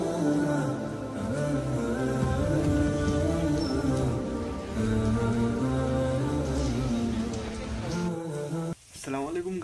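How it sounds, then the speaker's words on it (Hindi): Steady rain falls on a cold day, a dense continuous hiss and patter that stays loud throughout, close by, with no talking over it. "बहुत सही बारिश हो रही है।"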